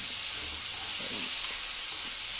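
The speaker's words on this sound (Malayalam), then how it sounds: "പിന്നെ വെളുത്തുള്ളി അതുപോലെ കുറച്ച് തക്കാളിയും കൂടി നന്നായിട്ട് വഴറ്റുക കേട്ടോ." Garlic and tomato sauté in a pan for a cauliflower fry, giving a steady, close sizzling hiss that holds evenly throughout with no talking.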